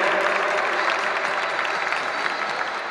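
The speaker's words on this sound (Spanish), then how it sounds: "A los seniors nos gustan que nos aplaudan" Dense audience applause runs steadily from start to end at a dance competition for seniors in Castellón, Spain, many hands clapping together in an even wash with faint crowd murmur beneath.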